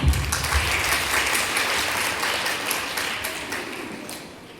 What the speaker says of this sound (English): Let's welcome Samriddhi, a well-known educationist, with a huge round of applause.